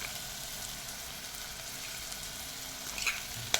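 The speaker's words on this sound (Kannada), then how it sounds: "ಇದು ಕಂದು ಬಣ್ಣ ಬರೋವರೆಗೂ ಫ್ರೈ ಮಾಡೋಣ." Onion frying in a pan until brown makes a steady, even sizzle throughout, with a couple of faint clicks near the end.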